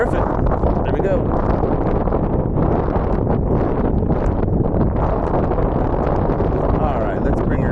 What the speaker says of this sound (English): I tend to not fly in this type of weather due to the fact that there's so much wind.